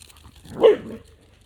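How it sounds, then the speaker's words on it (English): A dog gives a single short bark outdoors during a midnight walk, fairly near and sharp, set against a quiet night background. "There's a doggy over there, I can see it."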